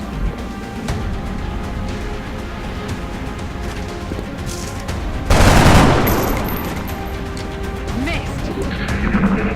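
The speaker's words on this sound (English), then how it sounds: "Incoming fire!" Gunfire erupts in XCOM: Enemy Unknown as a loud, dense burst of shots crashing midway through, standing out over a steady rumbling battle background.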